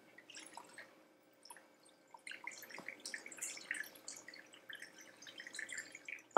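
A honey-sweetened Old Fashioned cocktail drains through a funnel into a small barrel, making intermittent close trickles and drips that thin out and return in uneven bursts, with no voices.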